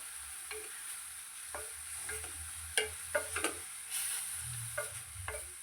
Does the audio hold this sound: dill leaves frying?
yes